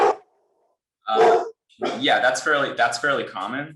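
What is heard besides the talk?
dog barking during a video call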